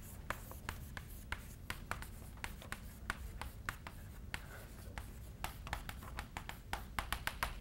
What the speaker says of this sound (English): let's write that on the board again